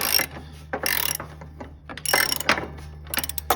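Ratchet wrench clicking in several bursts as bolts are tightened during an engine swap on a Cub Cadet, loud and close, with short pauses between strokes.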